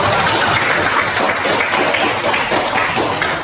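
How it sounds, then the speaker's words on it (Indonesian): Applause at a school guidance talk on career and self-potential, a steady dense wash of clapping from a room of listeners, fairly loud and unbroken. "tepuk tangan dulu"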